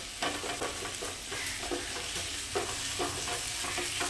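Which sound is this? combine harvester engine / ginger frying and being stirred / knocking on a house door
ginger frying and being stirred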